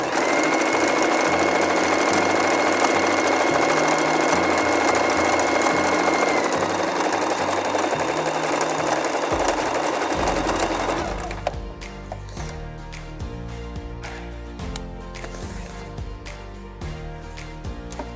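A sewing machine runs steadily while stitching a pocket on a garment piece, a continuous loud mechanical whir for about eleven seconds before it stops and lower sounds remain.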